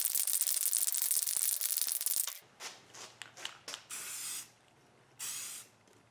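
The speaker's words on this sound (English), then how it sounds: "Now I get my rattle can of white paint all shaken up and ready to spray." White spray paint hisses from a rattle can in a long continuous burst, followed by several short bursts and two longer sprays, close and fairly loud.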